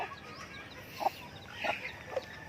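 Soft, scattered clucks from free-range native chickens in a breeding pen with a hen and chicks nearby, a few short calls spaced over a low background hum.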